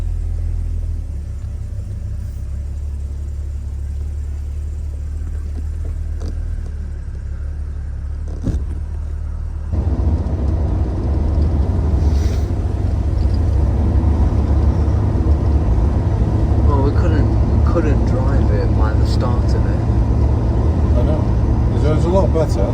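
Classic Mercedes W114 280CE on a test drive with a possible HT lead fault, a steady low engine and road rumble heard from inside the car that grows louder and rougher partway through, with a person talking over it.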